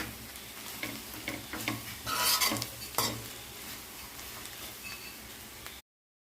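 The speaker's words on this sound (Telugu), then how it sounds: "తరిగి పెట్టుకున్న క్యారెట్ కూడా వేసుకోవాలి. వేసుకున్న తర్వాత ఒకసారి కలుపుకోవాలి." Spatula stirring chopped carrot into egg fried rice in a hot pan, with close scraping and clinking strokes over a soft sizzle.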